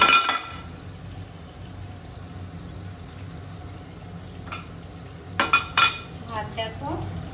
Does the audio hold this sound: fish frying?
yes